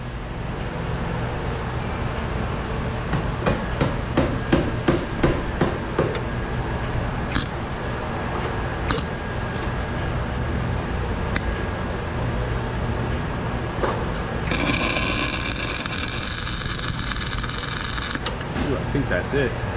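A drill bit cutting through weld on a collision-damaged car during repair: a continuous harsh grinding and whirring drone with rapid ratcheting clicks, then a brighter screeching stretch near the end, loud and close.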